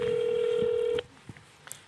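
One long electronic telephone ring tone on a live call, steady and clear for about a second before cutting off into quiet room noise with faint clicks.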